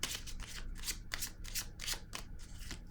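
Playing cards shuffled close up, a steady run of crisp riffling bursts repeating about every third of a second, quiet and alone with no voices.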